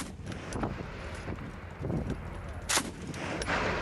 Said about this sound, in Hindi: लगातार फायरिंग हो रही है, गोलियां चल रही हैं